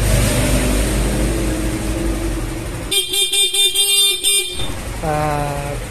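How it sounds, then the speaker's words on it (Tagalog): Stock horn on a Yamaha Sniper 155 motorcycle sounds in a rapid series of short, loud beeping toots over an idling engine, followed by a brief rising tone. "Then, stock horn."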